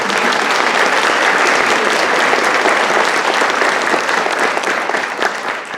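An audience at a university English department graduation convocation applauds, with dense, sustained clapping from many hands that stays loud throughout and tapers slightly at the end.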